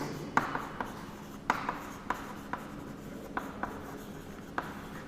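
Chalk tapping and scraping across a classroom board, about eight crisp, irregular strokes close by with short pauses between them, and no one talking.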